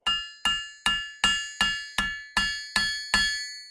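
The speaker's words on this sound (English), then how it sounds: "I'll lay my saw plate over the anvil." Steel hammer bouncing down the middle of a handsaw plate laid over an anvil, nine evenly spaced bright ringing strikes, each decaying with a metallic shimmer, close and alone.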